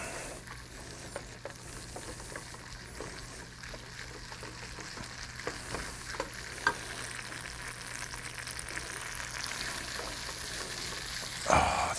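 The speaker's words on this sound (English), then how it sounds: "You hear that sizzle, guys? That means it's working." Pork sizzles steadily in a hot frying pan, a constant crackling hiss with occasional louder pops and scrapes, close by.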